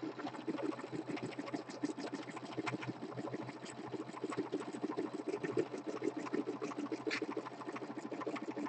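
Embroidery machine stitching a tack-down pass over an appliqué letter for a letterman jacket patch, a steady fast mechanical needle rhythm that hums continuously and evenly throughout at moderate level, with no talk.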